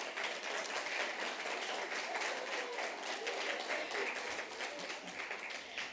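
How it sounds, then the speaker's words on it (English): A crowd applauds steadily throughout at a mental health carers forum, dense continuous clapping filling the room without a break. "Just give us a round of applause."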